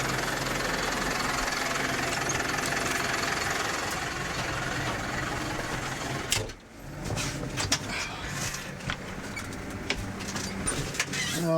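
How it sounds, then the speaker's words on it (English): A tractor engine rumbles steadily at a farm pea-planting job, with a brief dip in level midway before the running drone resumes, interrupted by occasional clunks. "Let's jump in the tractor and get started."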